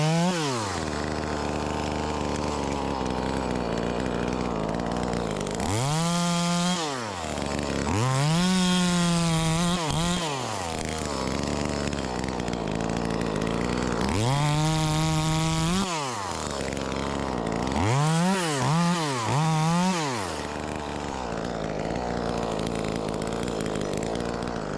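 A cheap knock-off Echo 2511T top-handle chainsaw cuts the top out of a tree, its engine rising into several loud revving bursts between steady idling, close and continuous with no talk.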